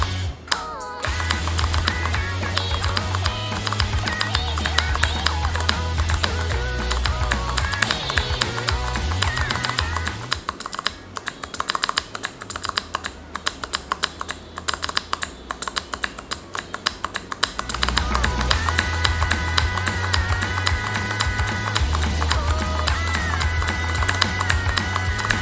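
Keys on a keyboard with Cherry MX White switches, muffled and heavy like blues, clatter in fast, dense bursts of clicky typing up close, thinning briefly midway before picking back up, with no talking.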